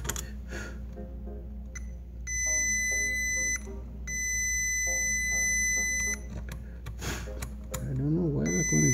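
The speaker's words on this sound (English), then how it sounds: "I don't know why that one is beeping," Electronic beeping during repair of a Stetsom Unlimited Power 2000.4 car amplifier: two long, steady high-pitched tones, each lasting about two seconds, with short chirps and low hum around them. A voice speaks briefly near the end.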